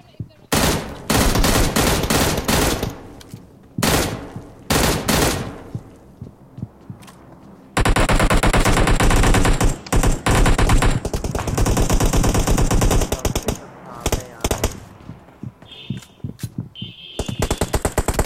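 M16 gunfire in PUBG, loud automatic bursts and rapid rattling volleys repeating across the stretch, with short pauses between bursts.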